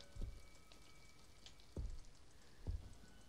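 Faint steady rain hiss in the horror video game Visage, with a few soft low thuds at irregular intervals, distant and quiet with no talking.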